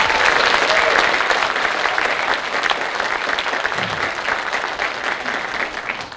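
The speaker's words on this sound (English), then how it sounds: "Please give them a round of applause" A crowd at a school band concert applauds loudly and continuously, the clapping easing off slightly toward the end.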